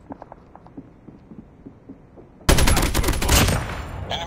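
Rapid automatic gunfire from a sentry gun in a zombie shooter game erupts suddenly and loudly halfway through, a dense sustained burst following quieter muffled thumps.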